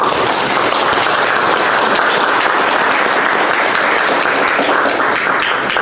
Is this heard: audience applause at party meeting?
yes